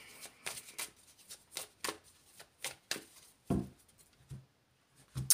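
Tarot cards being shuffled by hand in a quiet room, a series of short riffling bursts in an irregular rhythm, close and fairly soft, ending with a few taps as the deck is handled.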